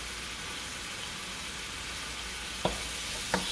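Curry shrimp stir-frying in a pan, a steady close sizzle of oil and shrimp running throughout, broken near the end by two sharp clacks of a utensil knocking the pan as it is stirred.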